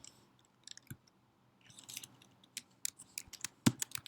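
Someone types on a computer keyboard, a quiet, irregular patter of light key clicks with short pauses between bursts.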